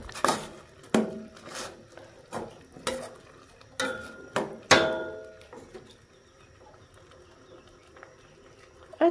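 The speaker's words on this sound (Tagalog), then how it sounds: "Hahaluin lang natin ng mabuti ang ating puso ng saging at munggo." A spoon stirs banana heart and mung beans in a pot, giving about eight sharp scraping clanks at an uneven pace before fading to quiet, faint simmering.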